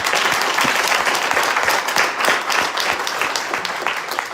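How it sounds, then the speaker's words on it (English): A conference audience applauds at the end of a session on redlining, giving steady, dense clapping from a large crowd that carries on for several seconds without a break. "So give all of yourselves a round of applause."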